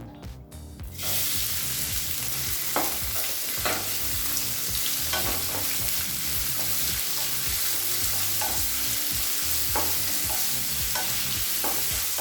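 Finely chopped onions fry in oil in a kadai with cloves, cardamom, bay leaf and cumin for an egg gravy, giving a steady close sizzle with brief stirring scrapes at regular intervals, and no one speaks.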